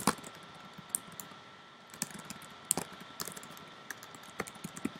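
Rapid typing on a computer keyboard, a steady run of close, crisp key clicks with small uneven pauses and a few louder strikes, no voices over it.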